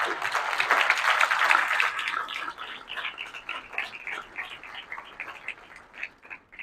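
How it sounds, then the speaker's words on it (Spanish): Audience applause at an evening colloquium, loud clapping at first that thins into scattered claps and fades away. "Un aplauso."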